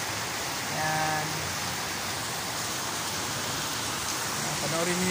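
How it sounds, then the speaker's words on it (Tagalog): Heavy rain pours down in a steady broadband wash, loud and unbroken, while someone talks over it. "Lakas ng ulan. Lakas ng ulan. Grabe."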